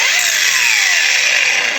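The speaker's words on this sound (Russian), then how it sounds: "Болгарка запускается с максимальной скорости, с максимальных оборотов" Cordless DRIVAK AG001 angle grinder running straight at maximum speed: a loud, steady high-pitched whine with no lower buildup, held evenly for under two seconds.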